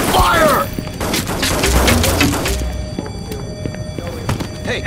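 Rapid gunfire crackles in the Reservoir Dogs video game, loud bursts of shots and heavy thumps in a firefight with a shouted voice over the top before the shooting thins to scattered pops.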